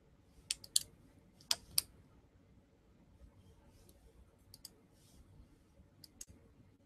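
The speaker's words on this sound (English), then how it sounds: "I'm typing to you guys in the chat" Quiet typing on a computer keyboard during a live chat: a few scattered clusters of sharp, close key clicks with long pauses between them over a low background hum, and no voices.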